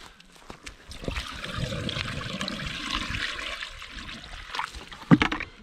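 Water pours from a bucket in a steady, splashing gush outdoors. It runs for several seconds and ends in a louder sloshing burst.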